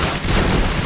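A car blows up in the video game Uprising44, a short dense burst of broadband noise with heavy low rumble that stays loud and fairly steady for under a second, with no voices over it.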